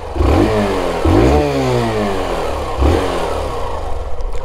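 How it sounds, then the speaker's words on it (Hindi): A Hero Super Splendor 125cc BS6 fuel-injected motorcycle engine runs nearby, revving up in three distinct bursts that rise and settle back to a steady idle-like drone, with no talking over it. "इंजन की मैं आपको इसकी आवाज सुना देता हूं, तो कुछ इस तरीके की इसके इंजन की आवाज है"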